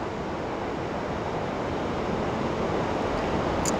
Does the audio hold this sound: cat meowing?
no